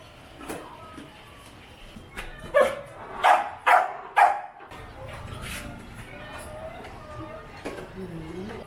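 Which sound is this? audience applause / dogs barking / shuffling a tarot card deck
dogs barking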